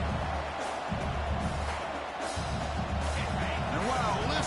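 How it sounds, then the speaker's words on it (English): Stadium crowd in a college football video game, a dense, steady roar that holds loud and unbroken throughout with no clear individual voices. "And wow, listen to this crowd noise."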